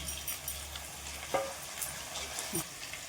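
Steady frying sizzle from a pan of tomatoes and onions with a few stirring clatters and scrapes, continuous hiss throughout, no talking.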